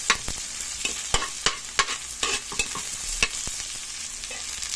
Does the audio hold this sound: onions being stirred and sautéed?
yes